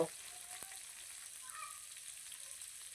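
Food deep-frying in oil for a traditional Thai country dish cooked at home. A faint, even sizzle runs throughout, quiet and steady, with one small click near the start and no speech.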